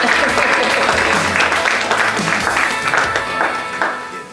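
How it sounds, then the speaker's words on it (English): An audience at an investment meetup gives a round of applause, dense, steady clapping close by that tapers off near the end. "Give him a round of applause, guys."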